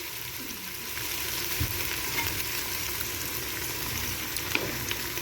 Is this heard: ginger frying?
yes